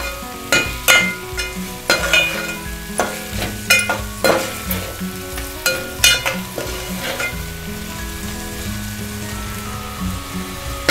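Spices with goda masala and Kashmiri chili powder fry for veg pulao while a spoon scrapes the pan in regular, rhythmic strokes over a low sizzle, close and fairly loud, with no voices.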